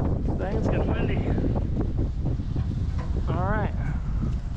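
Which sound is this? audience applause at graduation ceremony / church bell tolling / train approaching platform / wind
wind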